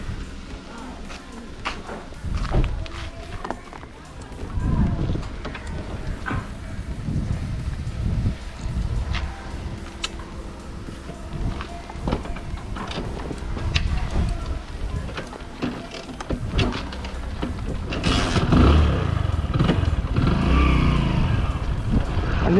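A TVS Apache RTR motorcycle fitted with a disc brake plate is ridden, its engine droning steadily and close with wind buffeting across the microphone, growing louder toward the end.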